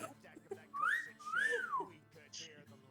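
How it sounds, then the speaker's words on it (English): A person whistles a few rising and falling notes during a tabletop role-playing game session, moderately loud over a faint murmur of background noise, with no speech. "You whistle."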